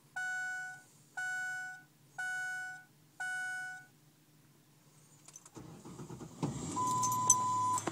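Four evenly spaced chimes from a Ford Explorer Sport Trac pickup's warning signal, followed by its engine cranking on a new battery and catching in a cold start, then a steady idle with a brief beep.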